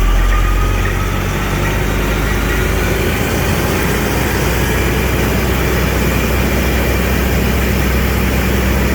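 A rebuilt car engine runs in gear on a dyno test, loud and continuous with a heavy low-frequency roar and steady hum throughout, close to the microphone and without speech.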